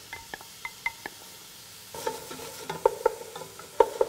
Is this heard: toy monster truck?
no